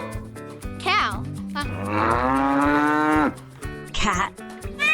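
A cow moos loudly and close by, several drawn-out lowing calls with one long sustained moo in the middle, set among farm background sounds.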